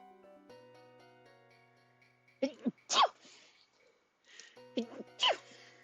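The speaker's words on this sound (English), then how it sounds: "Stop sneezing." Two sneezes a couple of seconds apart, each a sharp inhale-and-burst, close and fairly loud over a faint steady hum.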